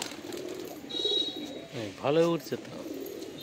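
Pigeons kept by a fancier, a Teddy and Golden pairing, give a rising burst of cooing that peaks mid-clip against a low steady background, with someone speaking briefly around it.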